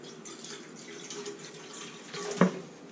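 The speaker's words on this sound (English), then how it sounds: "Going to pour half of the gallon in a good sized pot." Water poured from a gallon jug into a good-sized cooking pot, a steady, moderately quiet stream lasting a few seconds with a brief louder splash near the end.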